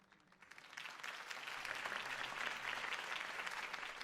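Crowd applause in a Batman video game swells in over the first second and then holds as a dense, even clapping from many hands, slightly distant.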